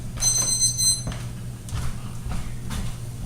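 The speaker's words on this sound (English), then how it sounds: "There's our timer for the cauliflower." A kitchen timer beeps loudly with a rapid series of high electronic tones for about a second while cauliflower cooks, followed by quieter kitchen clatter and a steady low hum.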